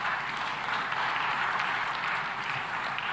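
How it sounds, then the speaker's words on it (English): Steady applause from a conference audience in a large hall, a dense continuous wash of clapping that holds at an even level for about three seconds with no voices over it. "Now you can clap."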